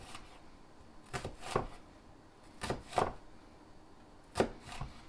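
A knife chopping an onion on a cutting board, with three separate bursts of quick cuts, each two or three strikes, spaced by pauses; close, fairly quiet, no talking.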